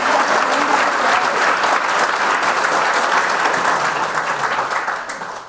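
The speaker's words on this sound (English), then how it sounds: "Go clap it up." An audience at an arts-in-education poetry and movement presentation in Arkansas applauds for Amy Bramlett Turner: dense, steady clapping from many hands, loud and close, holding for about five seconds before starting to fade.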